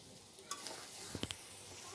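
Boiled dried loitta fish (shutki) frying in a pan, a soft steady sizzle with a few brief scraping stirs and light clinks against the pan, fairly quiet and without talk.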